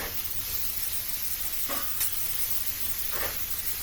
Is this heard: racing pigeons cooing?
no